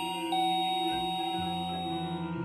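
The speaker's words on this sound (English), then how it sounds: "The doorbell rings again and I scream in shock" A doorbell chime in a visual novel video game, a soft electronic ding-dong that plays once against a steady background music bed.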